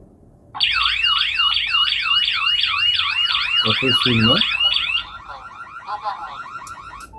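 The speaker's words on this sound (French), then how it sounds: "si il y a alarme dans ce système, la sirène se déclenche" A Tuya alarm system siren triggered by an SOS wails loud and close in a rapid repeating warble for several seconds, then cuts to a softer chirping pattern, while a voice speaks briefly partway through.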